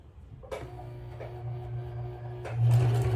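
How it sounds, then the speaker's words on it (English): A sewing machine starts up and runs along the side seam of a fabric travel bag, a steady motor hum with rapid stitching chatter, briefly pausing and then surging louder near the end; close and alone, no talk. "we're at the sewing machine, and as you can see, I'm going to start to stitch right here along the side"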